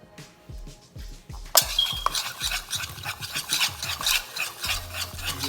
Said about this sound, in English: whisk this so everything's blended in the peanut butter itself